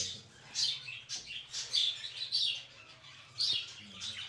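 Japanese budgerigars at a bird farm chirping in quick bright bursts, several overlapping twittering calls rising and falling over a low steady hum, fairly close and lively with no talk.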